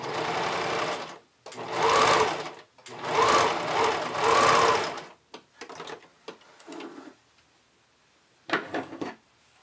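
A sewing machine stitches binding onto a bikini top in short runs, a few loud whirring bursts of a second or two separated by pauses, then quieter intermittent stitches and a final short burst.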